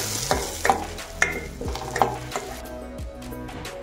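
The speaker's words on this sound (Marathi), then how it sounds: "शेंगदाण्याचा कुटा टाकून घेणार आहोत। याला हलवून घ्यायचं आहे छान।" Crushed peanuts are stirred in hot oil in a pan for a raw banana fasting dish, with rhythmic spatula scrapes and clinks over a soft sizzle that fades near the end.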